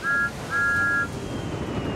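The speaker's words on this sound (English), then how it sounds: "with a toot of his whistle" Two toots of a cartoon steam engine's whistle, one short and one longer, sound clearly over faint background noise as a blue tank engine sets off pulling a flatbed.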